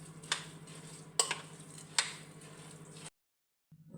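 A spoon stirs Egyptian mahshi stuffing mixed with chili harissa in a bowl, giving a few quiet scrapes and taps over a low hum before falling silent.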